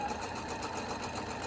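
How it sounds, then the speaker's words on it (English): A sewing machine runs steadily while locking a stitch on a fabric mask, a fast, even mechanical whir at moderate volume with no talking. "So now I lock my stitch in place again"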